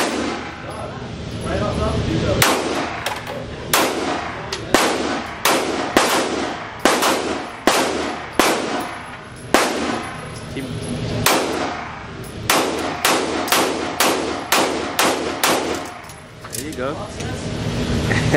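Gunshots ring out at a shooting range in a rapid, irregular series of loud, sharp reports, some clustered closely together, with overlapping echoes and people talking underneath.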